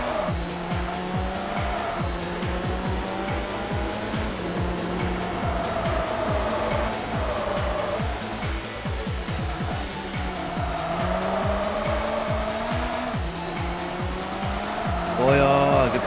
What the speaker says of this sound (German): Wheelspin die ganze Zeit.